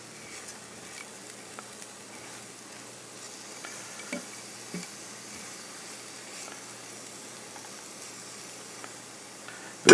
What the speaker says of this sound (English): Just put it in there, put it in there and let it brown for a minute with the vegetables.